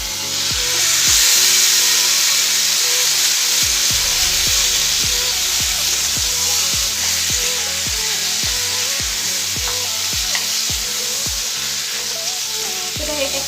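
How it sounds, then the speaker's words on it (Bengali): Taro leaves (kochu shak) sizzle and fry loudly in a pan, with a steady hiss and a regular series of sharp clinks from stirring or tapping throughout, no voices. "আমি এবার এর মধ্যে এই কচু শাকটা দিয়ে দিলাম।"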